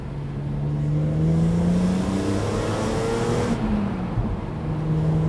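A BMW Z4 M Roadster engine revs and accelerates, a loud steady rasp with rising and falling pitch sweeps as it pulls away and shifts, heard close with no talk.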